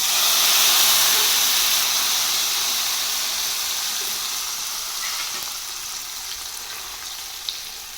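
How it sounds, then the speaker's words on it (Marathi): Hot oil tempering of cumin, mustard seeds and kasuri methi for a chutney, giving a steady, close, loud sizzle that eases slightly over time with no talking. "तेल गरम केलं जिरे मोरे तळून घेतले त्यात त्यात टाकते आता कसुरी मेथी तडका चटणीमध्ये टाकून घ्यायचा"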